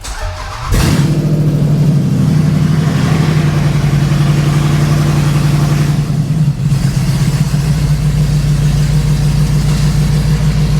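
A Land Rover LR4 engine starts abruptly and then runs at a loud, steady idle-like drone while the truck backs up onto a hoist, with a brief dip in the middle before it resumes.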